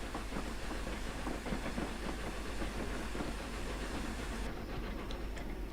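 A Flying Scotsman steam locomotive in the Train Sim game pulls away and gathers speed, giving a continuous rumble and hiss with a quick run of rhythmic chuffs and rail clatter throughout. No one speaks.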